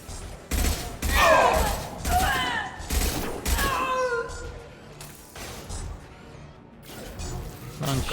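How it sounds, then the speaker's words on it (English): Rapid bursts of gunfire in the video game Mass Effect 2, a fast clattering exchange of shots running through most of the clip amid other game effects, with occasional voices. "I'm shooting someone."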